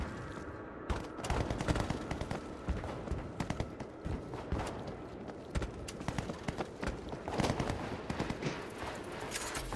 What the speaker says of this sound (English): Auto turret running.